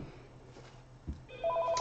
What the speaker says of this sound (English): oh, and there goes my phone